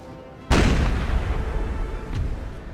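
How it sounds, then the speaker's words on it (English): Cannon fire in Napoleon Total War, a single heavy artillery boom that bursts in loudly and rolls on with a long rumbling tail, followed by a fainter second report. "Only one cannon fire"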